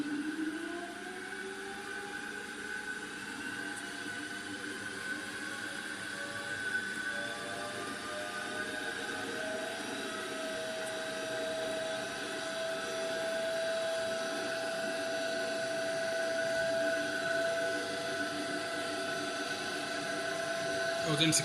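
A DC shunt motor runs above its rated speed of about 1600 rpm in a lab during a retardation test, giving a steady whining hum with tonal lines throughout, and a voice talks over it.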